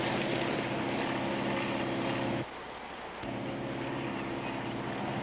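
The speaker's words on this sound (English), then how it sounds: "It's a plane." A steady drone from an airplane flying overhead, a constant low engine rumble that cuts out briefly in the middle and then returns, heard alone without speech.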